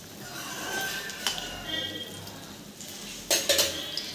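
Cut raw mango pieces dropped into a pot of simmering fish curry, a couple of soft clinks and splashy knocks against the pot over a quiet bubbling bed, with someone talking nearby.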